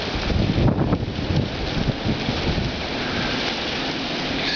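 Strong wind roars steadily through a heavy snow blizzard, a loud, constant broadband rush with gusty surges and buffeting against the microphone, no voices present.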